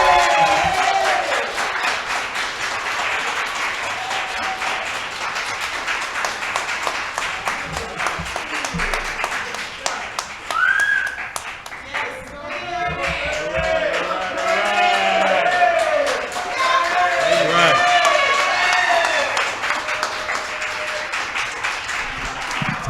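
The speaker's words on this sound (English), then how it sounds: "Give a round of applause to everybody." Audience applause at a creative writing showcase, sustained clapping mixed with cheers and whoops from the crowd, loud and continuous with voices calling out over it.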